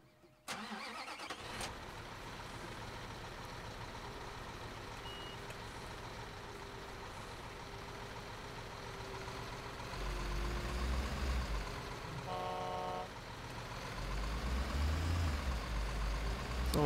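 A construction truck in the Bau Simulator game idles and drives with a constant engine drone, then revs harder and rumbles louder, and a short stretch of reversing beeps sounds partway through.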